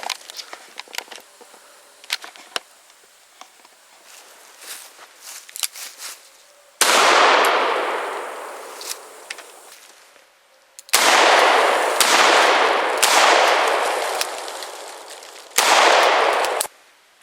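A Smith & Wesson Governor revolver fires game loads at a shaken 2 liter bottle about 10 to 15 yards away, with loud sharp shots each followed by a long echoing decay, plus lighter clicks and handling noise between.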